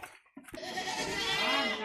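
A goat with lung trouble from pneumonia bleats once, a loud, close, drawn-out cry that follows a couple of short faint sounds.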